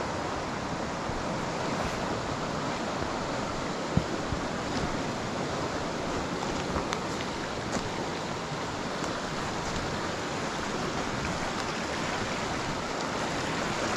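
Floodwater from a river in a park pours over the top of a broken wall in a constant, loud rushing roar with no breaks, heard up close.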